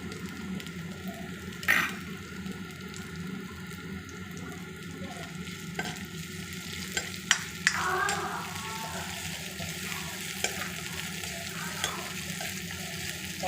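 Ginger and garlic fry in a pan for a fish curry with mustard greens and spinach, a soft, steady sizzle holding through with a few faint clinks and scrapes, close but quiet.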